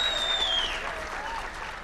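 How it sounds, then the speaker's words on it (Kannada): An audience at a film event applauds warmly for a dialogue writer, continuous dense clapping filling the hall, with a brief whistle early on and voices faintly underneath. "ಜೋರ್ ಚಪ್ಪಾಳೆ ಬರಬೇಕು ನಮ್ಮ ರಘುಗೋಸ್ಕರ"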